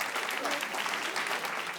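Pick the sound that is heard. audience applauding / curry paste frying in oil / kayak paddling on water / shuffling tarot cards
audience applauding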